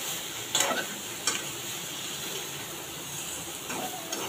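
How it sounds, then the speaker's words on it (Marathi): Taro leaf vegetable being stir-fried in a pan for a traditional Maharashtrian dish, giving a soft steady sizzle with a few brief scraping stirs close by, no talk. "भाजी चांगली परतून घ्यायची"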